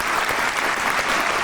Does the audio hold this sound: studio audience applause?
yes